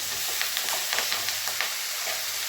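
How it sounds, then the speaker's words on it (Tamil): Fresh curry leaves and tomatoes sautéing in hot oil for a potato masala, a soft continuous sizzle with light crackles and a few faint stirring taps, quiet and close. "ஃப்ரெஷ்ஷான கருவேப்பிலை தக்காளி நல்லா வதங்கட்டும்"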